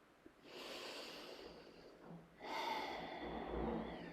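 Slow, audible yoga breaths, a long steady exhale followed after a brief pause by a fuller, louder inhale-exhale, close to the listener in a quiet room with no talking.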